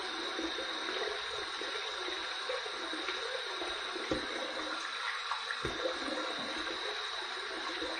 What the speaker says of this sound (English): Run under some hot water.